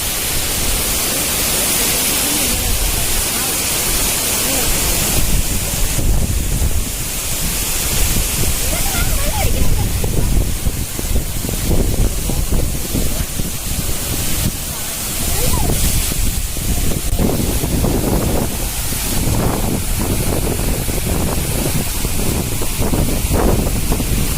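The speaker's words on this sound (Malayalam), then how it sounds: "വെള്ളച്ചാട്ടം കാണാൻ മഴ പെയ്യുന്നുണ്ട്" Rain pours near a rushing waterfall in a rocky outdoor spot, a loud, continuous broadband roar of falling water with gusty fluctuations throughout.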